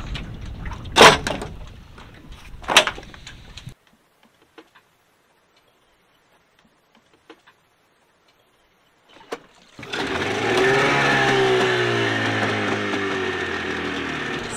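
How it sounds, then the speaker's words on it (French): A boat engine catches on the first try after a few scattered clicks and knocks and a brief sputter, then settles into a loud, steady running drone close by. "Ça, c'est un bon moteur qui démarre au quart de tour."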